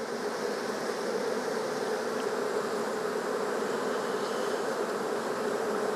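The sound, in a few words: honey bees buzzing at an open hive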